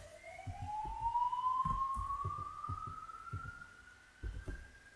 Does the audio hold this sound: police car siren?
yes